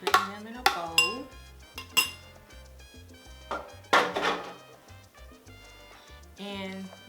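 Diced tomatoes are tipped into a kitchen bowl, with scattered clinks and knocks of dishes and utensils in separate bursts while a person talks between them.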